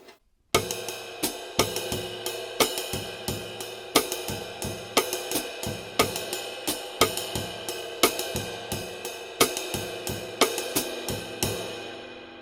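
Bossa nova groove on a drum set, rim clicks falling in a steady syncopated pattern over a continuous doubled cymbal ride, close and clear without any talking.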